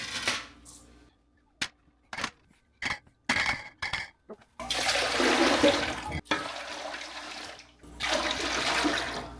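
Water runs into a pressure canner during home canning on an Alaska homestead, with vinegar added to the pot: short splashing bursts at first, then longer steady pours close by.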